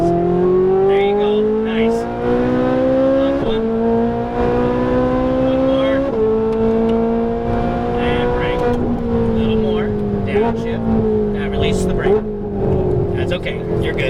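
A Ferrari 458 Italia engine at full throttle on a Las Vegas race track, its loud, close note climbing steadily through the revs with several upshifts that briefly drop the pitch, while an instructor talks over it.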